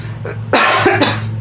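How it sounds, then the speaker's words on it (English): A person gives a couple of close, harsh coughs in quick succession over a low steady hum. "which is why I'm coughing"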